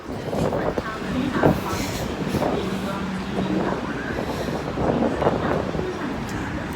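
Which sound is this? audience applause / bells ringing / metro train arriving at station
metro train arriving at station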